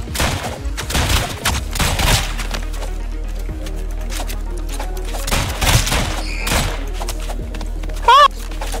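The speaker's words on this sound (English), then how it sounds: "You shoot so many bullets so fast." Rapid gunfire from the video game Rounds sounds as dense bursts of shots, with loud game effects and music running throughout and a rising electronic chirp near the end, while players talk over it.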